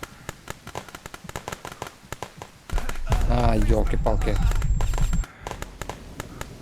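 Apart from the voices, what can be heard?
gunfire and explosions in shooter video game Glory To The Heroes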